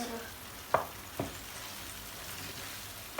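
Flour roasts in a pan for muhlama with a soft, steady sizzle, while a spoon scrapes through it in a few distinct stirring strokes, close and quiet.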